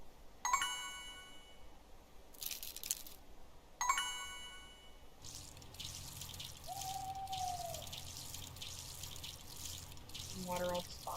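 Watering crops with a watering can in the farming game Story of Seasons: Friends of Mineral Town, with bright chime tones and a soft water pour and trickle, repeated over several plots amid game effects.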